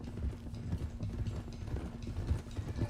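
Horses ride in Red Dead Redemption 2, their hooves making a steady, rapid clip-clop that is close and moderately loud, with low rumbling game ambience underneath.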